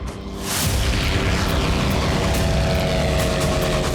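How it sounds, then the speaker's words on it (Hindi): A loud, sustained rumbling roar from a wartime explosion in the Russia–Ukraine war that starts abruptly and continues without letting up, like a distant heavy blast. "यूक्रेनी एजेंट्स ने धमाके करके ट्रैक उड़ा दिए।"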